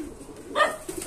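A single short pigeon coo sounds inside a loft, soft and mid-distance, over faint background noise.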